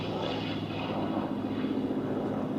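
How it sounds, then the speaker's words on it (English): A cranked-wing Corsair fighter flies past at the Duxford airshow, its piston engine giving a steady, broad drone that holds loud and even for the whole stretch, with no voices over it. "Very, very fast aeroplane with the cranked wing."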